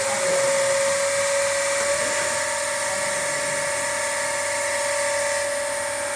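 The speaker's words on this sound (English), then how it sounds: "So I am starting the motor with help of 3-point starter." A DC shunt motor started through a 3-point starter runs with a steady high-pitched electrical whine and a broadband hum, constant and fairly loud throughout, with no talk.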